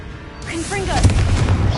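In Hogwarts Legacy, the Confringo fire blast spell builds with a short rising whoosh, then bursts into a loud, close explosive boom that rumbles on for a moment.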